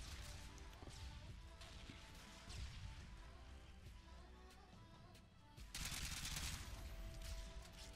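Scar rifle fire in Call of Duty Modern Warfare 2, with rapid bursts of gunshots and impacts under busy game noise, ending in a louder crashing burst near the end.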